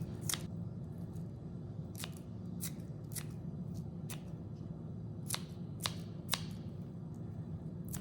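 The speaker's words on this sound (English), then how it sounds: "So I'm using scissors because I'm gonna put it right here." Kitchen scissors snip green onions straight over a bowl, a run of sharp, crisp cuts in irregular bursts over a low steady background hum.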